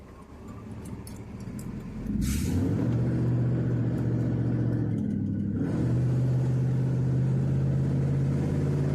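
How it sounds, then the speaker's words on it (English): A rough-running car engine rumbles close by, jumping louder after a couple of seconds and then settling into a steady, uneven drone with a brief dip midway. "Engine sounds rough."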